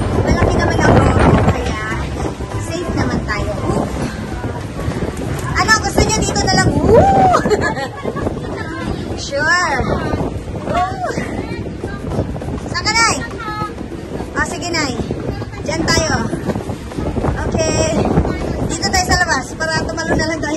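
Wind buffets the microphone on the open deck of a RoRo ferry crossing rough seas from Siquijor to Dumaguete, with a dull engine and water rumble underneath and people chatting loudly throughout.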